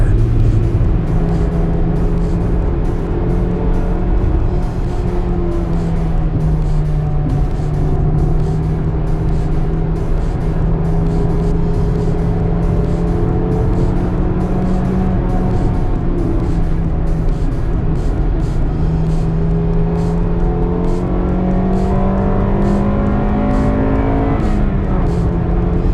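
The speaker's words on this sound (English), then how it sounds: "This is one of the greatest front-wheel drive cars ever made. This is an Integra Type R." An Acura Integra Type R engine revs hard while driving, pulling through gears with rising and falling pitch and strong, continuous engine drone heard from inside the car, no talking.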